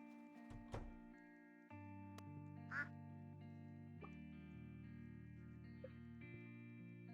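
Ducks in a farming video game quack in a few short, bright bursts over a soft, steady synthesized music bed, fairly quiet overall, with no talking.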